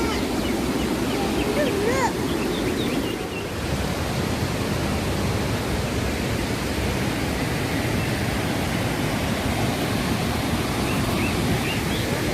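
Athirappilly waterfall in a forest, a dense, continuous roar of rushing water filling the air, steady and loud throughout with faint bird calls above it.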